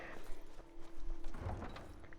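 A horse's hooves clip-clop steadily in the video game Skyrim, quiet and continuous under a rumbling game background with no speech.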